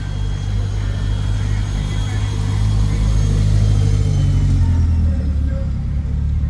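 A BMW 2002 at a vintage car meet in Asheville rumbles nearby with a steady, heavy low engine drone that builds and then eases as it passes, with faint background voices.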